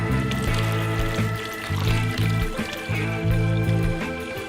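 Cold water poured steadily from a large bottle to rinse dirt out of a grimy Colombo Tecni filter, a continuous close splashing stream lasting the whole moment with no talking.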